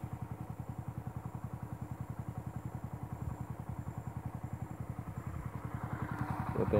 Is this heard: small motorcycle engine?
yes